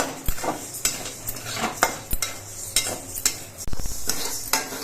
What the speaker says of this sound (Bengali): মুগ ডালটা ভাজার সময় কিন্তু অনবরত নাড়তে হবে